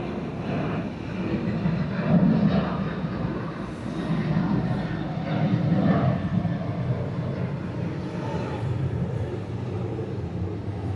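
An airliner taxis at Atlanta airport, a steady low engine rumble that swells and eases slightly, heard from a distance without talk.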